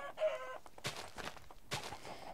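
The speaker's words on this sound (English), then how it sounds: "Whoa, a lot of chickens." Chickens in the Minecraft video game, a whole flock gathered together, cluck and squawk in a few short, fairly loud calls over a faint background, with no one talking.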